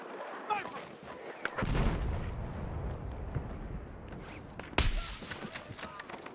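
Gunfire in an SV98 sniper video game match: repeated booming shots and explosions, with one loud sharp crack near the end over a rumbling battlefield background.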